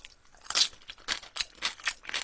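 Crisp, close crunching and chewing of soy-marinated shrimp with crunchy garlic scapes, a steady run of wet bites and chews, quiet and alone.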